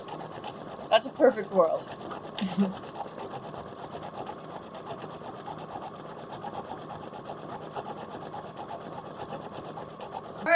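An embroidery machine stitches a digitized flowering cactus design held in a hoop, its fast, even needle chatter running steadily throughout, with a short spoken remark near the start.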